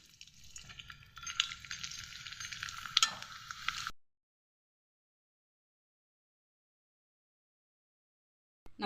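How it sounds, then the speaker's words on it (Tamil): Dried tapioca crisps (vathal) crackle and sizzle loudly in hot oil for about four seconds, then the sound cuts to silence. "இப்போ வத்தலை பொரிச்சிடலாம்."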